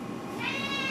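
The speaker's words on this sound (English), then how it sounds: "Shut up, cat." A house cat meows close by, a single drawn-out, rising and wavering cry over low background noise.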